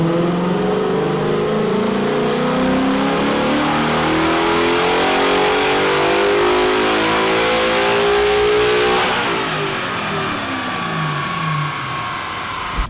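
A Coyote-swapped Mustang with SVE shorty headers, a 3.55 rear gear and 93 octane fuel revs hard on a chassis dyno. The engine note climbs steadily and loudly for about nine seconds, then drops off as the throttle closes.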